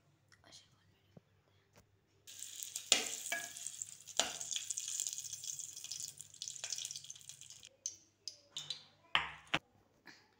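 Ghee sizzles in a hot pan on the stove as a sweet potato mixture is stirred in, a steady close hiss with scattered scrapes and clatters, soft whispered talk underneath.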